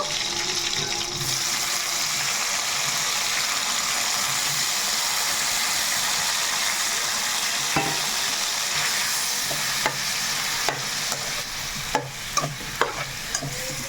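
Tomatoes sizzling and cooking down in a kalai pan for tomato chutney, a steady dense frying hiss throughout with occasional sharp clinks and stirring scrapes near the end.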